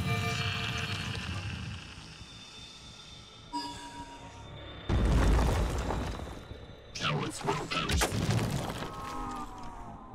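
Explosions in the tactical strategy game Phoenix Point, several heavy booming blasts in the second half, loud and close, with a person talking between and over them.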